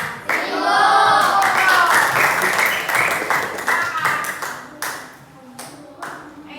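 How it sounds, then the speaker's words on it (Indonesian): A small group in a classroom claps in quick, uneven bursts, with children's voices and talk over and between the claps. "Tepuk tangan dulu buat Jose dan"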